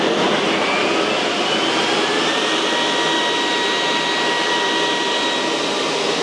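An EGO battery-powered leaf blower and vacuum running at maximum power gives a loud, steady whooshing roar with a high motor whine, holding constant and close throughout with no talking.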